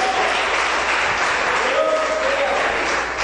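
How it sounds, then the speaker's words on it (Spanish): Church congregation applauding during a Spanish-language sermon, a dense, loud and continuous wash of clapping with faint voices and tonal cries mixed in. "Denle un aplauso al Señor"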